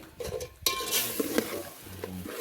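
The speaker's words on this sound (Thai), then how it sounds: "เคี่ยวเครื่องเทศให้เข้ากันก่อน" Spices stirred and simmering in a pot, with a spoon scraping and clinking against the metal over a soft bubbling sizzle, close and continuous with no talk.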